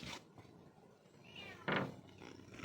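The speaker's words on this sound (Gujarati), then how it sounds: "ઘરેથી હવે મીંદડી છે કે ખાવાનું માગે છે।" A house cat meows asking for food, one short, fairly loud meow standing out about two-thirds of the way through, with quieter faint cries and light room noise around it.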